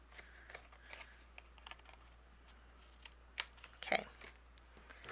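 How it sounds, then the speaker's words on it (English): Scissors trim a small edge off a piece of cardstock for a handmade card, giving a few soft, quiet snips and clicks close by, with a sharper cut or two near the end over a faint background hum. "So I'll just use my scissors and trim that off."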